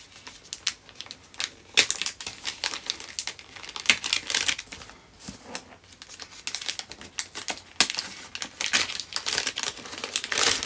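Paper and plastic wrapping crinkle and tear as the day's advent calendar package, a Pukka ginger-lemon herbal tea, is opened up close, in irregular bursts of crackling rustle with no talking.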